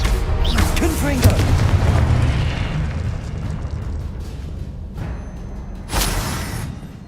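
The Confringo blasting spell going off in Hogwarts Legacy, amid dense, loud game combat with booming impacts and a sharp burst near the end, with voices and effects layered throughout.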